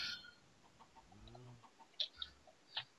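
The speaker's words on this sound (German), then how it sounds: "Ich wurde gerade nämlich hier zum Huhn teleportiert." A Minecraft chicken clucks a few times close by, quiet, short pitched bursts with small clicks and taps scattered between them.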